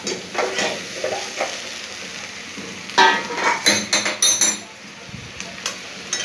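A lid is set onto a cooking pan of chowmein, making a few clattering metal knocks and scrapes against a background of stirring and sizzling close by.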